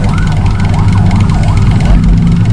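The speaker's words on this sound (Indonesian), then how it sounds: "Ada ambulan pula." Loud ambulance siren rising and falling in steady cycles over heavy engine rumble, close by, in a traffic jam on an uphill mountain road.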